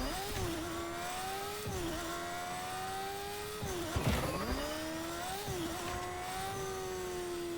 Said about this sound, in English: I use this motorcycle to get farther away without wasting too many webs